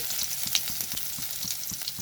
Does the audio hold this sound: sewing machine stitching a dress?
no